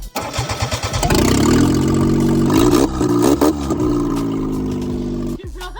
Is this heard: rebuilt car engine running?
yes